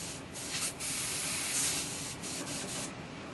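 Airbrush spraying paint in a steady, continuous hiss with slight pulsing as the trigger is feathered, close and fairly loud, with no talking.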